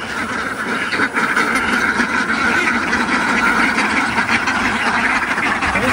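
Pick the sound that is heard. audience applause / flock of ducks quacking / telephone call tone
flock of ducks quacking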